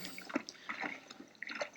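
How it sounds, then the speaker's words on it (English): Soft trickling and dripping water playing quietly in the background, gentle and steady with small splashes. "maybe I'll leave this playing in the background because it has a nice sound, soothing water sounds"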